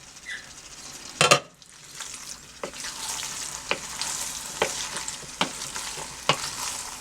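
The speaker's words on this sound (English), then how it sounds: "you want to take the lid off, give it a stir" A healthy low-salt hamburger helper pasta dish with veggies is stirred in a pan, with a sharp metal clatter early on and then spoon scrapes at regular intervals over a soft, steady simmering hiss.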